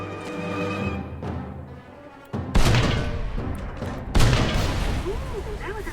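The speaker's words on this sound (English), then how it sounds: "Skeet shooting with recoilless rifle." In the Mercenaries 2 video game, a recoilless rifle fires and the shots are followed by explosions, with two sharp, loud booms standing out over game noise and someone talking.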